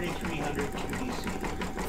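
Janome 4300 QDC compact embroidery sewing machine running an in-the-hoop coaster, a steady whirring mechanical hum with rapid stitching pulses, heard close under people talking.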